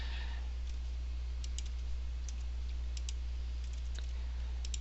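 Typing a test card number on a computer keyboard produces light, sparse key clicks over a steady electrical hum, fairly faint and close, with no talk.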